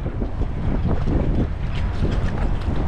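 Strong wind roars steadily across the open sea aboard a fishing boat, a loud, continuous blustery rush with constant microphone buffeting and the wash of water below.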